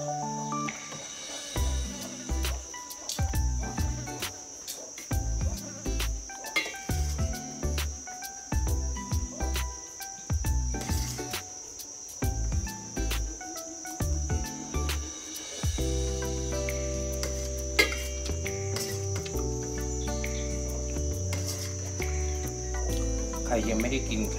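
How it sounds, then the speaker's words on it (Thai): Insects chirping on a summer day, a continuous shrill high drone that runs throughout beneath louder background sounds. "หน้าร้อนกับแมลงวันนี่เป็นของคู่กันจริงเนาะ"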